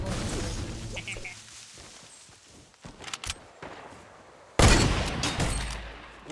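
A hunting rifle fired in a video game: a single loud, sudden gunshot blast after quieter game sounds and a few faint pops, with a voice talking.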